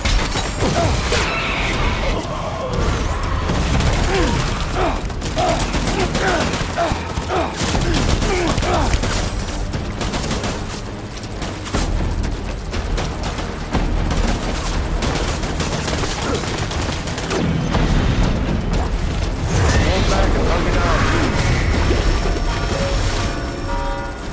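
Gunfire in the video game Death Stranding, rapid bursts of shots and mechanical clatter layered over a dense continuous game soundtrack, with voices speaking intermittently.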